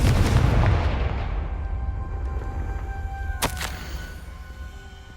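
A Confringo fire spell from the Hogwarts Legacy video game bursts with a loud, booming blast at the start, then its rumble slowly decays while a sharp crack cuts in near the middle.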